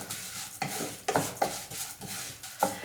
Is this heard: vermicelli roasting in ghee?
yes